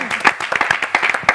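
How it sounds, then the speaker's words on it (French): Studio audience applause bursts out during a French television talk show, dense irregular clapping that is fairly loud and close, mixed with a voice or two and lasting only a moment. "applaudissements"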